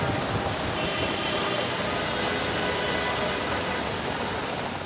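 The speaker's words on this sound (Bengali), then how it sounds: "কখনো থেমে থেমে, আবার কখনো মুষলধারে বৃষ্টি।" A heavy downpour pours over a low-lying, waterlogged part of the capital city as a steady, dense roar of rain that stays even from start to finish and fills the whole scene.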